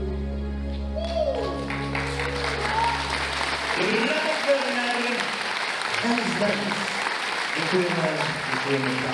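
An audience applauds at a revival concert in Moravia, loud sustained clapping that swells after a held musical chord ends, with the crowd clapping steadily as a voice speaks over it.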